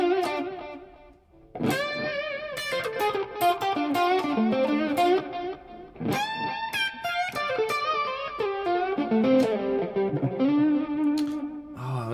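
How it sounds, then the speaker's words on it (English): Electric guitar played through a Tonex Clean tone with a distortion pedal: strummed, ringing chords and picked notes with a bright, saturated edge, loud and close, with a brief pause before the playing resumes. "That's the Tonex Clean with a distortion pedal."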